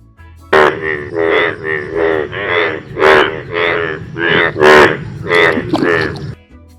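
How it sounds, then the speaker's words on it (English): A frog croaks in a loud, close series of rasping, pulsing calls, about ten in a row with an even rhythm and no talking over it. "Frog,"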